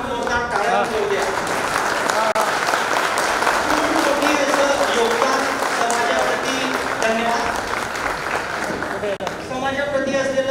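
Sustained, dense applause fills the hall as an audience rises from its seats in tribute at a one-day workshop for photographers, loud and steady throughout with some voices mixed in.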